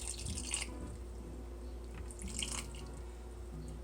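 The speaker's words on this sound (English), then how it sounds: "I'm going to add a 1/4 cup of water to this." A quarter cup of water goes into a pot of blackberries, sugar and lemon juice, heard as soft trickling and drips at close range, with a louder splash near the start and another midway.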